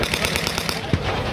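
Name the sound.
SU-100 tank firing its 100 mm cannon at a reenactment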